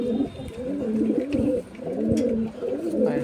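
Close domestic pigeons of Andra and Malbai breeds give a run of overlapping low coos, steady and continuous, with no talking.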